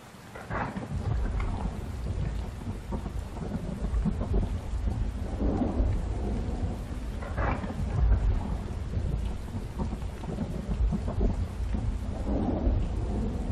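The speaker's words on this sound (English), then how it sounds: "otherwise we will hear the next thunder before" Thunder rumbles roll through steady heavy rain in an Unreal Engine storm effect, with several deep swelling crashes rising over the constant downpour.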